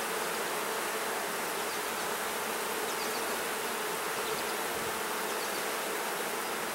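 Honey bees buzz densely inside an open hive with no eggs, brood or queen, a constant close swarm drone that stays even and unbroken throughout.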